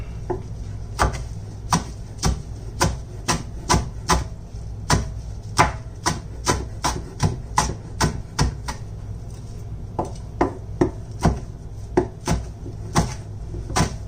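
A knife chops kale on a cutting board in steady, sharp knocks, roughly two per second, close and crisp over a low kitchen hum, with no talking.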